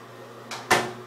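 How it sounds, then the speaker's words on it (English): Bathroom door in a townhome being closed, a soft swish followed by a firmer thud close by in a quiet room. "Close the door"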